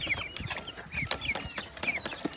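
Several chickens cluck and squawk nearby in quick, irregular bursts, with shuffling and scratching in between.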